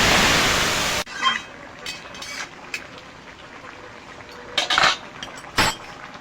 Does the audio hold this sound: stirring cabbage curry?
yes